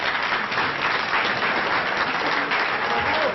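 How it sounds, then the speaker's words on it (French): An audience applauds Christine Beckers, an eclectic professional racing driver, at a public event, a steady wash of clapping throughout with no talk over it. "c'est très gentil à vous de l'applaudir"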